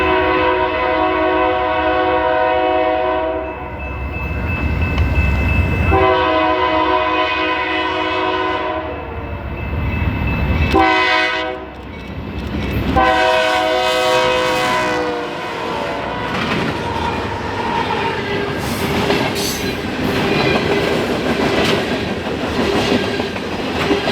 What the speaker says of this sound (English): the faint echo of a Nathan K3LA horn could be heard as the train rapidly approached us at track